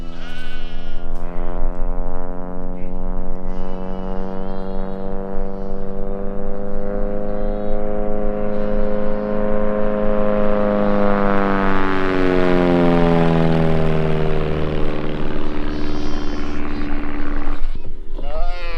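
Low-flying airplane buzzes over a farm, a steady loud droning roar with rising and falling pitch, while sheep bleat excitedly nearby throughout.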